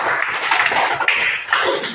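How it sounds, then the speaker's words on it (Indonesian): A group gets dense, steady clapping in a teacher-training class session. The hand claps fill the room continuously for the whole stretch, with no voices over them. "Oke, tepuk tangan untuk kelompok pertama."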